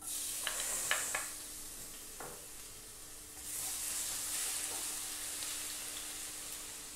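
Minced garlic dropped into hot cooking oil in a pan gives off a broad, steady sizzle with a few brief stirring clicks early on, then a second swell of frying hiss that holds at moderate loudness, with no voices.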